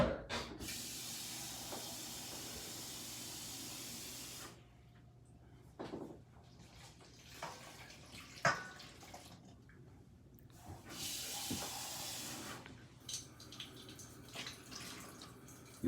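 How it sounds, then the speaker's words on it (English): Tap water sprays into a bowl of fritter batter for Jamaican codfish fritters, two bursts of hissing flow separated by quieter clinks and handling sounds in a kitchen. "You add your water,"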